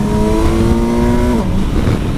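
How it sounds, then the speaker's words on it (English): A Kawasaki Versys 1000 SE GT four-cylinder liter motorcycle engine pulls hard under acceleration, a loud, close, rising growl with a strong tonal drone that shifts pitch midway, then continues roaring. "This is a 4-cylinder liter engine"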